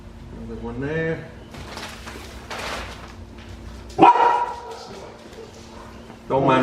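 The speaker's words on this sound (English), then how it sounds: "Don't mind my dogs." Several pet dogs bark and yip indoors, with sharp loud barks and whimpers breaking out between stretches of quieter background noise, and a person talks at the start.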